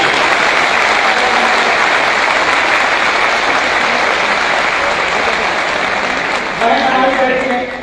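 Thousands of employees at a big pension rally in Patna applaud loudly for the mothers, a long dense burst of clapping that holds steady before voices and cheers rise near the end.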